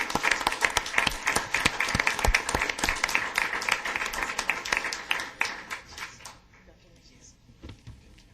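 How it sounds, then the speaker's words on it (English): A council meeting room breaks into dense applause from the gathered audience for about five seconds before it tapers off into quiet room noise, with faint voices mixed in. "let's give him a round of applause"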